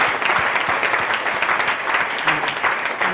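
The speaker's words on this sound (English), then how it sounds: "Let's have one more round of applause for our readers this evening." An audience at a writers festival reading applauds readers with dense, steady clapping that carries the whole moment at an even, moderate loudness, close and full.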